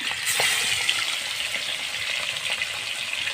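Small pieces of Ganges river fish fry in oil, giving a steady close sizzle with light crackles and a faint watery hiss, unbroken by speech.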